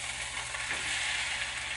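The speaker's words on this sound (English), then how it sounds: "oh, listen to that sizzle." Ramen noodles sizzle in hot oil in a Teflon pan over medium heat, giving a steady, close, even hiss with no pauses and no voices.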